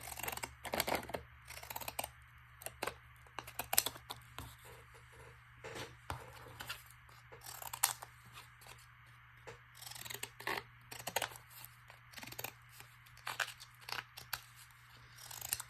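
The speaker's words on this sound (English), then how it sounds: "I'll cut myself another rectangle." Scissors snip through thick cardstock while cutting a rectangle for Halloween page embellishments, giving quiet, irregular crunching clicks in short bursts, close up with no talking.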